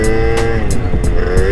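A Honda Dio 50cc scooter fitted with a 21mm flatslide carburettor revs hard at full throttle. Its engine whine climbs loud and close in one short burst.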